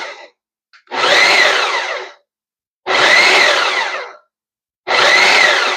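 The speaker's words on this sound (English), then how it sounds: "And then we are going to blend this. First we chop it a little bit." A kitchen blender chops potato and chickpea pie filling in three loud pulses of roughly a second each, separated by short silences, with no talking.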